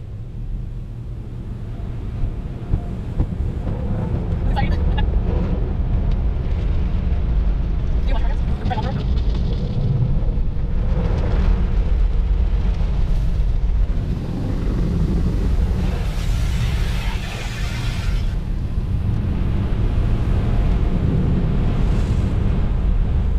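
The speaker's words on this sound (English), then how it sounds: "He's gonna spray it down with his power washer thing." A power washer sprays down a car from close by inside what sounds like an automatic car wash, with loud continuous hissing and rumbling wash noise and voices talking throughout.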